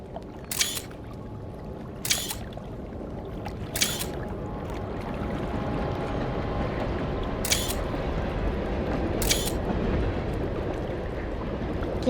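Five crisp camera shutter clicks ring out at irregular intervals while photographing a train in theHunter: Call of the Wild, each sharp and close over a soft, steady bed of trickling water.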